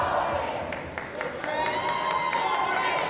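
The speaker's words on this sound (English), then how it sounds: "The American crowd trying to throw some spirit out there for Van Boening." An American crowd at the 2015 Mosconi Cup pool event cheers and shouts in a large hall, a steady roar with scattered whoops and claps beneath a commentator's voice.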